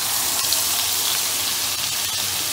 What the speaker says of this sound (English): This has to fry for about 15 minutes.